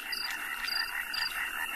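Natterjack toads (Bufo calamita) croak in a dense chorus, a steady buzzing trill running throughout with sharper calls pulsing through it about every half second, close and continuous.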